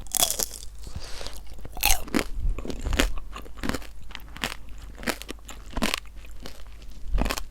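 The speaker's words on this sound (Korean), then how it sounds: "딸기탕으로 먹어보겠습니다" Candied strawberry tanghulu bitten and crunched up close, a series of sharp, loud crackling bites with brittle sugar shell shattering, spaced through the clip between quieter chewing.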